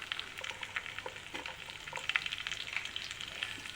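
Onion frying in hot oil with coriander seeds and cumin, a steady close crackling sizzle with light stirring scrapes throughout and no voices.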